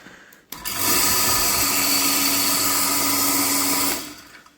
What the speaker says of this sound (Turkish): Motorumuz çalışıyor.